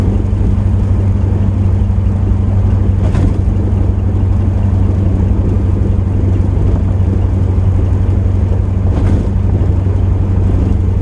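1984 Chevrolet Camaro Z28 with a 383 stroker V8 cruising in fourth gear, a loud steady low engine drone heard from inside the car throughout, with faint road noise.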